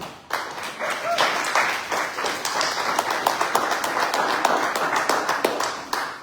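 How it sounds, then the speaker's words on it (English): An audience applauds a speaker at a fellowship service, a dense, steady wash of many hands clapping, fairly close and full, starting abruptly and continuing without pause. "Let's give him a big round of applause."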